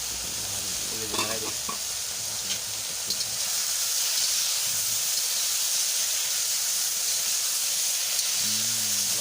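Hot oil sizzling loudly in a pan with chilli and bay leaf for a taro stem vegetable dish, a continuous dense hiss with a few stirring scrapes and clatters near the start.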